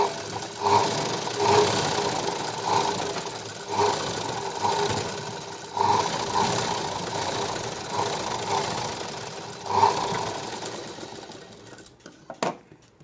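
Sewing machine stitching right along the edge of a blouse sleeve, running in steady bursts of rapid mechanical clatter with brief pauses between runs, close and loud.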